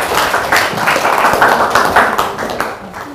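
Classroom applause from high school students for a presenting group, a short burst of close, uneven hand clapping with distinct slaps that gradually thins out and fades.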